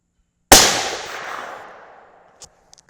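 Single sharp rifle shot from a T/C Compass in 6.5 Creedmoor firing S&B ammunition, a loud close crack with a long fading outdoor echo, followed by faint clicks.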